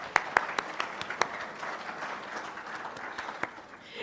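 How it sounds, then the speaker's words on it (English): A small audience at a meeting claps for a badge group, sparse, scattered hand claps rising into brief applause that soon thins out. "You guys, round of applause for Blue Badge"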